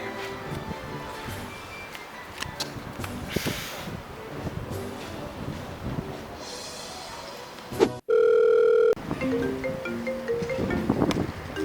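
A telephone gives one loud, steady electronic ring of about a second, cutting through outdoor wind noise and background rustling.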